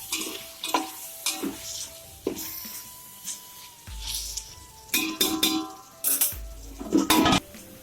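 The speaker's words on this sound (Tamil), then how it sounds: "அது கூட 2 பச்சை மிளகாவும் சேர்த்து நல்லா வதக்கிக்கலாம்." Pan sizzling with stirring scrapes and clinks of a utensil against metal, as tomatoes and green chillies sauté; intermittent louder scraping strokes.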